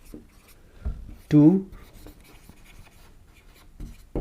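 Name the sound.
writing on a board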